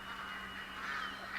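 Ducks calling in the hunting game theHunter: Call of the Wild, on a New England mountains map: faint, brief nasal quacking and honking over a low steady hum, with no talking.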